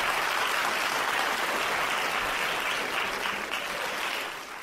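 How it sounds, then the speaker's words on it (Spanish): Steady applause from a large audience, a thick wash of clapping that holds for several seconds and then begins to fade. "Recibimos con un fuerte aplauso a..."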